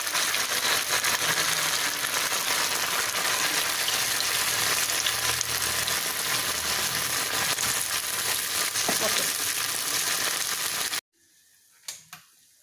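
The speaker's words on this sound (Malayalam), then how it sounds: "ഇനി നമുക്ക് ഈ ബോൾസ് വറുത്തെടുക്കാം അതിനുവേണ്ടി എണ്ണ ഇട്ട് എണ്ണ ചൂടായിട്ടുണ്ട്" Potato balls deep frying in hot oil make a loud, continuous close-up sizzle that cuts off abruptly near the end, followed by a couple of faint knocks.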